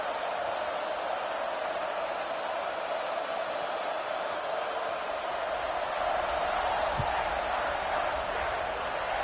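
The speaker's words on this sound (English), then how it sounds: "this crowd is buzzing after that last score" Stadium crowd in the College Football 26 video game during a Michigan versus Ohio State matchup, a steady, dense roar that holds evenly throughout with no clear breaks.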